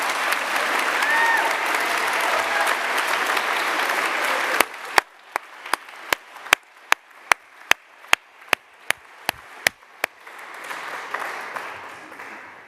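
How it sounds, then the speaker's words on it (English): Applause for graduates at a graduation and prize-giving ceremony, a full crowd clapping for about four and a half seconds, then sparse, sharp single claps spaced out in a slow rhythm before a quieter murmur returns. "I think it's about time we gave a round of applause to all those graduates."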